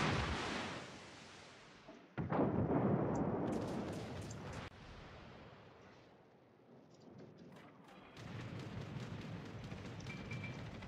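Heavy naval gun salvos from warships in World of Warships, a tier 10 clan battle, booming in loud broad bursts with rumbling decay, a big blast near two seconds and more firing later over continuous battle noise.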